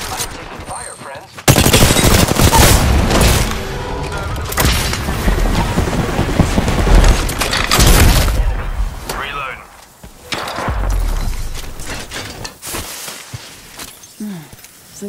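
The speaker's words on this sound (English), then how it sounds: "opening fire on the enemy. I'm taking fire, friends." Gunfire in the video game Apex Legends on PS4 Pro: loud, sustained bursts of automatic weapon fire and booming impacts that come in dense stretches with brief lulls, while a player talks over the action.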